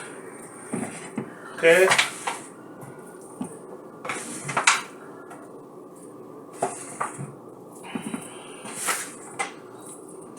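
Pieces of crispy pork ribs are put into a metal pan, giving scattered clanks, clinks and scraping knocks spread over several seconds, with a brief word spoken.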